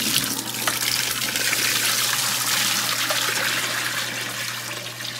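Tap water runs steadily and loudly over pumpkin being rinsed in a kitchen, a continuous splashing rush with no talking.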